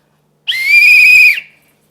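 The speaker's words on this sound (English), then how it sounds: "looking around for the sound of the whistle" A dog training whistle gives one shrill, steady blast lasting about a second, loud and close, then cuts off into silence.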